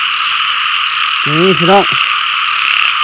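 At night in a rice field, a male and a female frog croak near a frog hunter, over a constant shrill chorus of frogs and insects. Someone briefly speaks in the middle of it.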